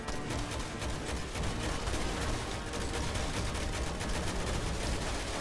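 An assault rifle in Resident Evil 6 fires continuously, a dense, loud stream of rapid shots with no letup through the whole stretch.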